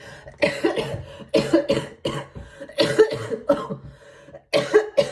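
Several bursts of coughing in quick clusters, close and fairly loud, with short pauses between fits.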